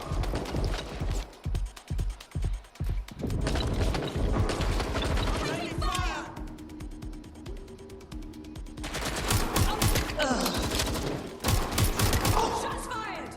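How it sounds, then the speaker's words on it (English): Gunfire in the video game Watch Dogs: Legion sounds as rapid bursts of shots with mechanical clatter, loud and dense across the scene, with stretches of continuous fire and brief pauses, under talk. "Shots fired!"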